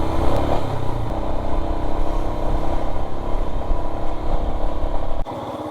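Motorcycle climbing the hairpin road up the Alpe d'Huez in the French Alps, its engine droning loud and steady close to the microphone under load before the sound abruptly drops away near the end.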